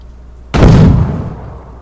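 A single sharp grenade blast in the DayZ video game hits after a short quiet lead-in, then a rumbling tail decays over about a second.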